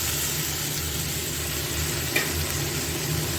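Steamed jackfruit seeds and stems are added to onion and garlic frying in a pan, giving a continuous soft sizzle with one brief clink of a utensil.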